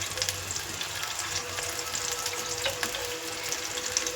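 Ginger-cumin paste frying in a pan, a steady broadband sizzle with faint crackles running alone at moderate volume throughout.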